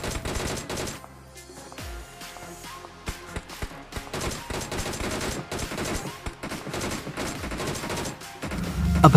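Gunfire in the mobile battle royale game BGMI, dense bursts of rapid shots and scattered single cracks that build in intensity toward the end, loud and continuous with no voices.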